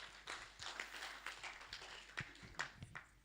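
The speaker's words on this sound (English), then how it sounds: "Another big hand clap to Annette Kandole." Scattered hand claps from a small conference audience, light and uneven, fairly faint against a hushed room.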